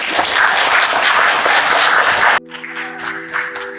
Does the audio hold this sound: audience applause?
yes